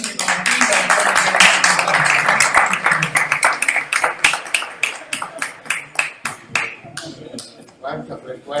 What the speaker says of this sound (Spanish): con este aplauso cerramos la noche